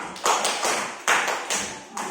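A classroom of students doing a rhythmic spirit clap, sharp unison claps landing in a steady patterned beat, close and fairly loud.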